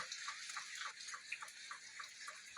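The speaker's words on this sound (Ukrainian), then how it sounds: "Просто потоком йде вода." Rainwater streams steadily and splashes nearby, a constant bubbling rush with small irregular spatters, quiet and uninterrupted.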